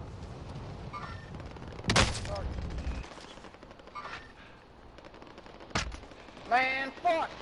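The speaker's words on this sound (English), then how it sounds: "Why is somebody still shooting at me?" Bursts of automatic gunfire in a PS4 shooter game: a loud volley near two seconds, then scattered sharper shots and a final rapid burst, with a player's voice cutting in between.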